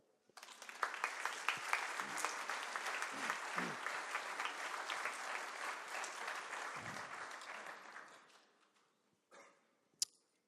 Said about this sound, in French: vous pouvez vous applaudir, vous êtes formidables